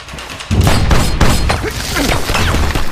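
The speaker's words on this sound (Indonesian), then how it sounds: "Mereka berdua terus ditembaki dari luar." Gunfire from the film Die Hard as two men are shot at from outside: a loud, rapid burst of booming shots and impacts after a brief quiet start, continuing densely to the end.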